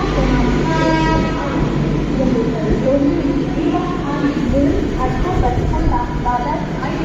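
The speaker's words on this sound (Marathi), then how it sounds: "छत्रपती शिवाजी महाराज टर्मिनसला जाणारी जलद लोकल थोड्याच वेळात प्लॅटफॉर्म क्रमांक 6 वर येत आहे" A Mumbai fast local train pulls into platform 6 at a busy station, with a continuous rail rumble, a sounding horn and a station announcement voice over the noise.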